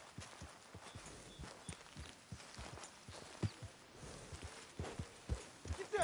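Horse hooves clip-clop at a walking pace in the Red Dead Redemption 2 video game, a run of fairly close, irregular thuds over a low ambient bed.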